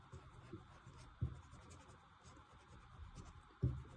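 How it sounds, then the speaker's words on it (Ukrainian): A pencil sketch of a cute tiger being erased under marker lines: soft, quiet rubbing and scratching strokes on paper, with a few sharper taps or scrubs standing out from the low, continuous friction. "Я зазвичай стираю ось олівець"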